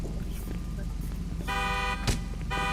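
A car horn with an imported Christmas-themed tune sounds twice in a roleplay game, a sustained musical tone beginning midway and a second short burst near the end, over a steady engine hum and background talk.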